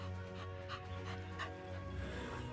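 A working ranch dog pants steadily with soft whimpers mixed in, close and continuous over a constant low background hum.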